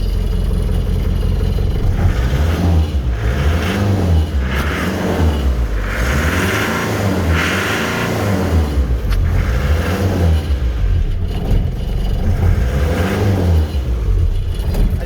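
A Land Rover petrol engine revs up and down repeatedly on its hand throttle, each rise and fall of engine pitch clear and close, with some mechanical clatter underneath.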